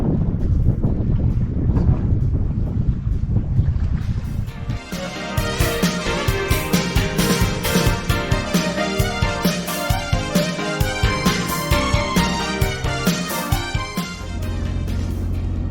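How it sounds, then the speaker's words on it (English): A sailboat motors under engine power on open water. Strong wind buffeting fills the first few seconds, then a steady engine drone with rapid rhythmic knocking carries through the rest, loud and close, with no voices. "we're motoring again because the wind died"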